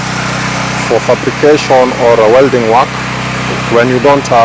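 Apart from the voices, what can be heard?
generator powering fabrication and welding machines on site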